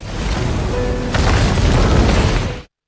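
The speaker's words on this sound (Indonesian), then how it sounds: "Ia langsung meledakkan sebuah bom yang sebelumnya ia pasang di sebuah mobil yang ia bawa" A loud, sustained roaring blast of a car bomb exploding in a film scene, with a sudden surge partway through, filling the whole range before cutting off abruptly.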